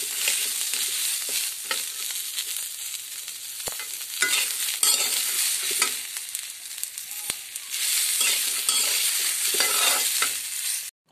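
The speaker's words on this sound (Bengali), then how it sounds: "মানে পেঁয়াজ মরিচ আর রসুন ভাজা হয়ে গেছে।" Onion, green chili and garlic fry in oil in a karai, giving a continuous close sizzle broken by scraping stir strokes and occasional sharp clicks of the spatula.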